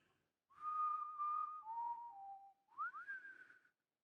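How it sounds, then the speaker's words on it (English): The whistled theme from the video game Deadly Premonition 1 plays as a clear, solo melodic whistle of several sustained notes, gliding down and then sweeping back up, with no talking over it. "that was the Deadly Premonition 1 whistle theme"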